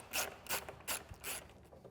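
A hand tool clicks through four quick ratcheting bursts while T27 Torx screws are backed out of a Polaris Sportsman ATV front bumper cover, close and crisp with short pauses between strokes.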